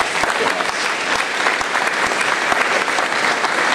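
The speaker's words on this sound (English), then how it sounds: "another round of applause" Steady, dense audience applause fills the room from start to finish, many hands clapping at close range with a continuous crackling texture and no pauses.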